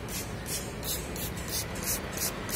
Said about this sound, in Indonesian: Semprot-semprot aja seperti ini.